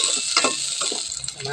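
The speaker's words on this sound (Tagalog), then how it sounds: "Igisa ko muna yung sibuyas." Onion and garlic sizzle and crackle in a hot pan as they are sautéed for a sinigang na lechon, a dense close hiss with small stirring scrapes and pops throughout the short burst.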